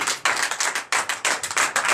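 A church congregation at a Sunday worship service in Comè, Benin claps together in a quick, steady rhythm, each sharp burst of hands landing about four times a second, loud and close, with no talking.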